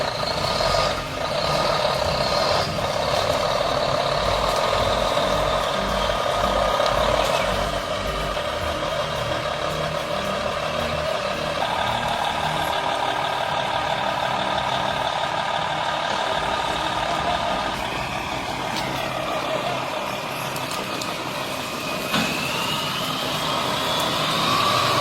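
A fully loaded logging truck in a forest rumbles with a continuous heavy engine drone, with whining tones rising and falling over it. The sound is loud and steady throughout, and no one talks.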